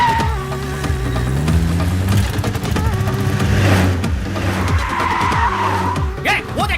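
Tires squeal and skid loudly as an auto rickshaw speeds off in a movie chase scene, with a revving engine and overlapping voices shouting throughout.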